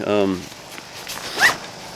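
Short zipper pull on a small interior organizer compartment of a Mountain Hardwear Diretissima 50 backpack, one quick rasp after a brief voice, close and moderately loud.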